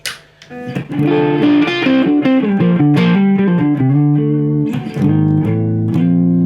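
A loud electric guitar in drop D through a Boss DS-1 distortion pedal set to light, crunchy overdrive plays a chain of sustained chords and notes, ringing and slightly gritty.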